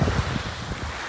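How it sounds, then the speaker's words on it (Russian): Wind gusts roar steadily over the microphone on the Black Sea shore in Sochi, a loud, continuous rumble with faint surf beneath and no voices. "На море ветер."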